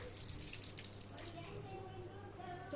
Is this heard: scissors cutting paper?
no